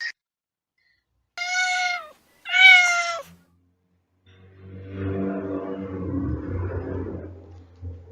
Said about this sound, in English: It is a cat.